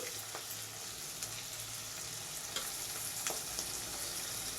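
Green chillies softening in oil in a pan, a low steady sizzle with a few faint crackles and pops, close and quiet with no voices.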